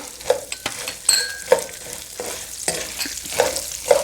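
Green and red chilies with cumin seeds sizzle in hot oil while being stirred for murmura chivda, giving a close, crackling fry broken by intermittent scrapes and clinks of a spoon against the pan.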